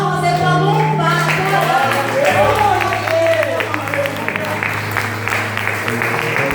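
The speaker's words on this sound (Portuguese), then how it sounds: "E as palmas é para louvar" A church congregation applauds in praise during a service, a sustained wash of clapping from many hands under a held musical tone, with a voice speaking over it.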